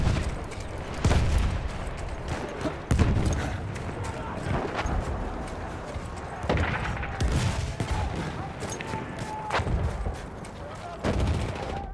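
An MG 08/18 machine gun fires in bursts in a Battlefield-style game battle at Tsaritsyn, loud and close, the rattling volleys separated by short pauses, with distant explosions and soldiers' voices calling out in the background.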